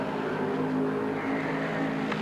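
Stock race cars roar past during the 1982 Millen 200, a steady mid-distance engine drone that holds constant and swells slightly, with no talking.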